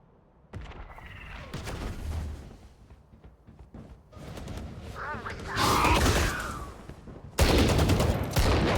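Gunfire in the video game Valorant sounds in rapid bursts and single loud shots, mixed with other game sounds. It grows denser and louder toward the end.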